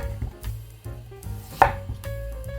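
A knife chops through winter radish on a cutting board into thick slices, giving a series of firm, evenly spaced thuds close by, with no voices.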